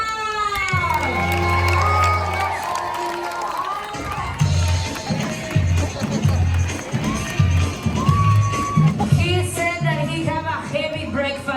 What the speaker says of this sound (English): Everybody clap your hands for Ron!